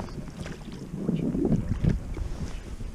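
Outboard motor of a small fishing boat running during a spinning fishing competition on a lake, a steady low drone rising slightly mid-clip, roughened by wind noise on the microphone, with no talk over it.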